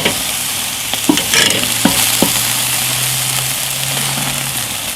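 Chicken pieces sizzle directly over hot charcoal on a grill, a loud steady crackling hiss with a few sharp pops and a faint low hum underneath.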